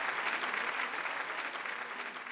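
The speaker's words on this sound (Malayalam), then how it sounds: "ഒരു കൈയടി വീണ്ടും." An audience breaks into dense, sustained applause at a lively stage program, many hands clapping steadily at an even level throughout, with a faint crowd murmur beneath.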